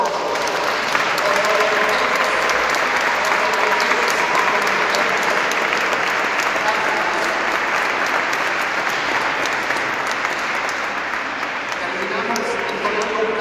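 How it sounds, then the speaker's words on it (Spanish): Loud, prolonged applause from the congregation at a parish first communion celebration, many hands clapping steadily in a reverberant church for over ten seconds. "Otro fuerte aplauso para todos."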